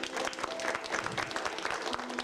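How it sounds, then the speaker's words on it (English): Applause from an audience at a show, fairly quiet and distant, with steady clapping and a low hum underneath. "Nice round of applause here as well."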